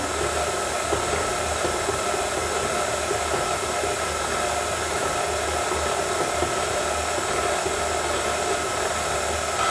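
An electric mixer with a dough hook runs at low speed through dough with milk and eggs, giving a constant, even motor whir and churning that stays close and steady throughout, with no speech over it.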